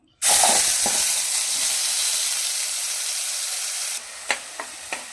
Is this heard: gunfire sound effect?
no